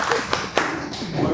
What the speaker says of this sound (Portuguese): Uma salva de palmas a ele.